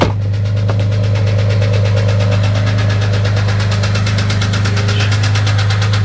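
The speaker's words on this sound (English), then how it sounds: "My Jeep sounds like a 7 circle of hell." Loud, close Jeep engine idling roughly with a rapid knocking rattle and strong low droning vibration throughout, early morning.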